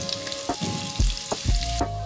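Cumin seeds sizzle and fry in hot oil in a cooking pot, a steady crackling hiss with a few louder pops, close and without voices.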